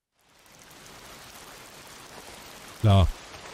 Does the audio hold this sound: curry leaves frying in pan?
no